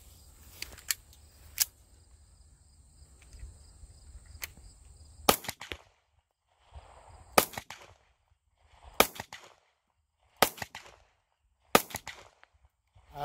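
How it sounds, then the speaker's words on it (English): Five sharp gunshots from a Taurus GX4 XL 9mm pistol firing Turkish ZSR 115-grain ball ammo at a range ring out at roughly even intervals, each a crisp crack with a short tail, after faint earlier distant shots. "these are going to be the first shots with the brand new GX4 XL"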